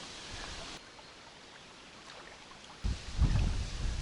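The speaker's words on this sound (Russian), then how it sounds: "Правда, ветер сильный." Strong wind blows outdoors, first as a steady hiss and then as louder rumbling gusts buffeting the microphone.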